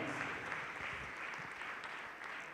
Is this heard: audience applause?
yes